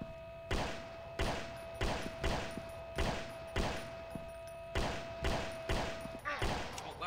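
Gunfire in the video game Slenderman Must Die: repeated loud shots fired in quick, uneven bursts, each with a sharp crack and short decaying tail, about a dozen over several seconds.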